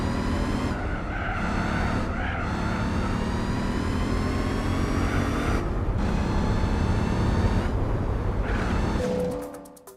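Race car engine in Gran Turismo 4, a loud revving drone climbing through gears with short dips at each shift and occasional tire skids, running continuously before fading out at the end, no talk.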